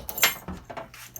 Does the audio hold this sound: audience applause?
no